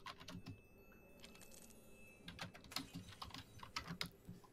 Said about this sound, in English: As we hear Sour typing furiously in the background